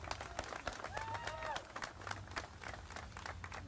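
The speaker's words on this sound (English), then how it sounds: "Let's give these people a round of applause" A crowd applauds at an outdoor civic celebration for spring 2021 state sports champions in Denver, steady dense clapping with a few cheers and whistles mixed with nearby voices throughout.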